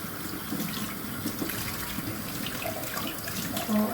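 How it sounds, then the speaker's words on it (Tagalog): Dishes being washed under a running tap in a home kitchen sink, a steady close rush of water that runs without a break for the whole stretch, with faint clinks mixed in. "Maghugas ng pinagkainan."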